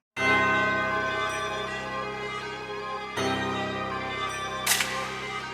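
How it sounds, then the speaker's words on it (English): A simple synth bell layered into a dark trap beat built in Ableton Live, sustained tonal notes ringing over a steady low-end pattern, with a fresh hit near the middle and a bright burst toward the end. "I'm just going to add a really simple bell."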